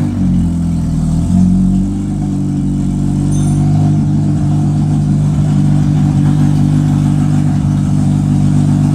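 A Honda CR-V's engine revs loudly and steadily while climbing a hill, a close, sustained drone that rises slightly and holds.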